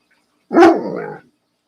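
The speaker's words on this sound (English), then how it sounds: "I can hear the Buddy barking because he's a very spoiled dog" A single short, loud dog bark, close by, followed by silence.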